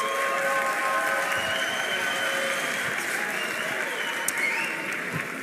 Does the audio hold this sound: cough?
no